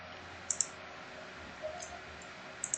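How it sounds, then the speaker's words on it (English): Computer mouse clicks while saving settings in a PS3 emulator: two quick pairs of faint, crisp clicks, one near the start and one at the end, with a quiet gap between. "So go ahead and just click on save."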